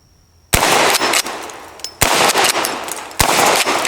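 An old west-era gun is fired at 2-liter bottles, sending out three loud, sharp shots spaced over a few seconds, each followed by a long echoing decay outdoors.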